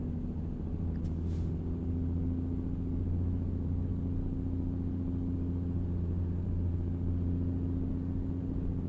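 Steady low car engine rumble while driving on the road, a continuous drone with no voices over it.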